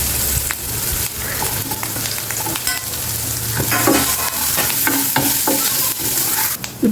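Chopped onions and green chillies hit hot oil with cumin seeds and curry leaves, sizzling steadily up close while a utensil stirs and scrapes the pan with repeated clinks.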